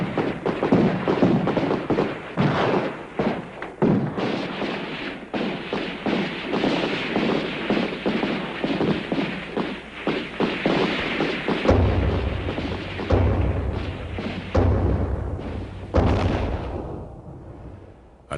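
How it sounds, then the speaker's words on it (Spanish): Gunfire from the 1937 Ponce massacre in Puerto Rico rattles in dense, rapid volleys of cracking shots, joined later by heavy low booming thumps, loud and sustained almost throughout. "Inmediatamente suena un disparo"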